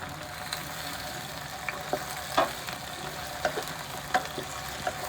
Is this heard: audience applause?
no